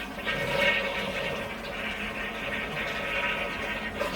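A toilet flushing up close, a steady rushing, gurgling swirl of water that holds at an even level for several seconds without voices.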